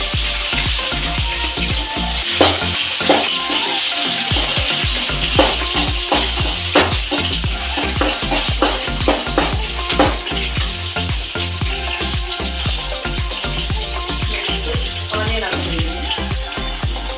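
Chillies frying in oil in a pan for gobi manchurian, a loud steady sizzle with repeated sharp crackles and spatters as they are stirred, close and continuous, with no speech.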